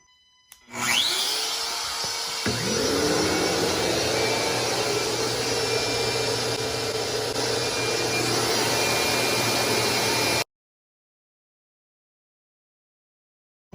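A small hobby CNC router spins up and cuts a wooden sign, a loud steady whining, grinding drone that runs continuously for about ten seconds, then abruptly stops into silence.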